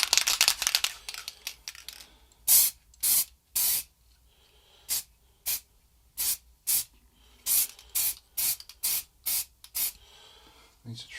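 Spray paint hisses from an aerosol can in about a dozen short, sharp bursts as a coat goes onto a guitar headstock for a Telemaster build, the loud blasts separated by quiet gaps.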